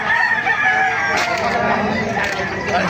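A rooster at the Bocaue market crows loudly and close, a long drawn-out call amid busy market chatter and some clucking nearby.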